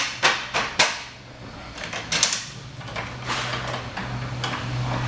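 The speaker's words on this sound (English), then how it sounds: "Undo the ratchets. Those will come out of there pretty easy." Ratchet straps on a drop deck trailer's tarp are released, with several sharp metallic clacks and snaps up close, followed by a steady rattling rustle.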